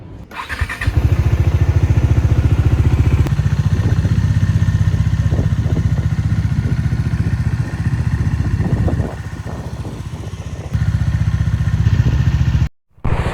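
Motorcycle engine droning steadily as it sets off and rides along a highway, loud and close with wind rush, briefly dropping in level before the sound cuts out.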